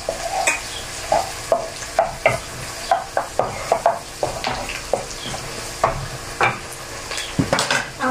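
Onions and garlic sauté in oil for chicken bihon, with a steady soft sizzle broken by repeated sharp scrapes and clinks of a utensil stirring in the pan, close by and without talk.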